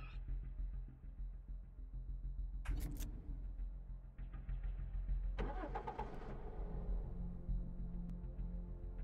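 A heavy bus struggling to start in the video game Cataclysm DDA, with cranking and engine bursts around the third and sixth seconds over a steady low rumble.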